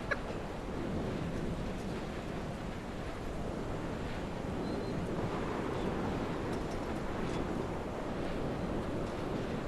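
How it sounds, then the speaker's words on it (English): Wind blowing across a high exposed spot in the video game Dear Esther, a steady broad rushing roar with a surf-like wash and no talking. "It is windy up here."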